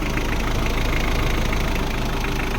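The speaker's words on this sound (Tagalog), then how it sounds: "yan so mandar ng makina ngayon" A Hyundai Starex with a D4BH diesel engine idles after repair for a fuel knock, a steady close-up clatter with an even rhythmic pulse and no voices over it.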